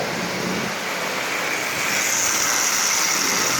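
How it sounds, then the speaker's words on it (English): A Lionel 2025 model train locomotive, smoking at about 80% power, pulls 32 Lionel cars with a steady, continuous motor whir and rolling rumble, close and unbroken throughout. "So a Lionel 2025 pulling 32 Lionel cars with no problem at all."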